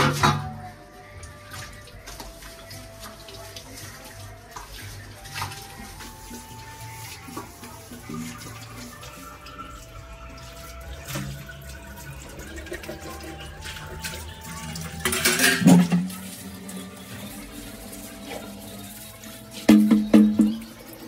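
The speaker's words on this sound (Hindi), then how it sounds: "तो बर्तन वर्तन धो लेते हैं फटाफट" Dishes are washed in a home kitchen under a running tap, with a continuous soft flow of water and occasional clinks and splashes of utensils, growing louder in brief bursts toward the end.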